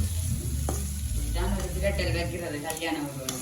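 Potatoes sauté for a Jaffna-style potato stir-fry, giving a close, steady sizzle with stirring scrapes and a spoon tap. A voice talks over the frying in the second half.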